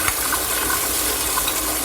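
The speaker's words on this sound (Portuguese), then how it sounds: "um pouco de azeite ou de óleo, que é para refogar a cebola" Onion sautéing in olive oil or cooking oil gives a steady, close sizzle and fry crackle with faint stirring scrapes, and no one speaks over it.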